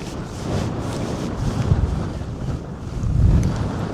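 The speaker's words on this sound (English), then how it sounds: "God, that wind scares me." Strong wind buffets the microphone on a rocky coast near St Abbs, a steady low roar that swells into heavier gusts midway and again toward the end.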